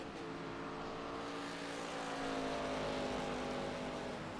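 An ARCA stock car on a winery road course rises and falls in engine pitch as the driver feathers on and off the throttle through tight turns, a steady, close, continuous roar with no talk.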